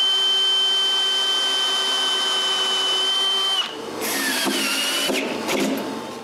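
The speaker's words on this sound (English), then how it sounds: "When I have two sides straight, I can screw this to the CNC table." Power drill driving screws to fasten a maple board onto a CNC table, a steady high-pitched motor whine held for several seconds, then stopping and restarting in short bursts.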